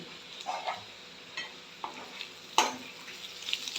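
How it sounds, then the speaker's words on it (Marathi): A lid comes off a pan of steamed spiny gourd (kartoli) vegetable with one sharp metallic clink over a faint sizzle and a few soft scrapes, close by. "मी झाकण खाली काढून घेते"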